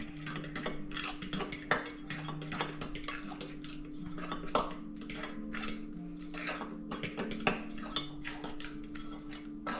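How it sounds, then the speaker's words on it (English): Mashed banana stirred with baking powder in a bowl, quick repeated clinks and taps of a utensil against the dish in an uneven rhythm, close and quiet over a faint steady hum. "a 1/4 teaspoon of baking powder per banana, and mix that up"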